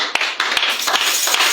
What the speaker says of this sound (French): Apportons les acclamations.